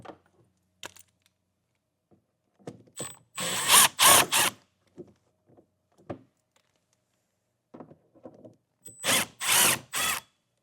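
A power tool drives out T15 Torx screws in the wheel well of a 2025 Chevrolet Trax, with two loud bursts of whirring and ratcheting split by a pause and scattered light clicks and handling noise.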